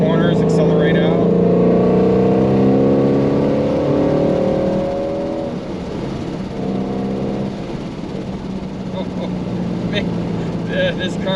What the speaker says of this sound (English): I shift more than I need to just so I can rev match.